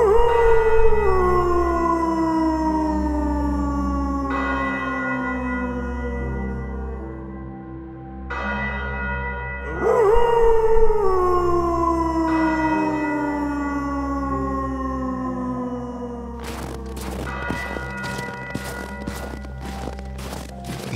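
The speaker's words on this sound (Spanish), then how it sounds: "la campana de la catedral, el perro negro de su majestad virreinal, levantando su hocico hacia el cielo, aullaba" A black dog lifts its muzzle and howls in long sliding wails while a cathedral bell rings out slow, heavy resonant strokes, followed near the end by a rapid run of bright bell strikes.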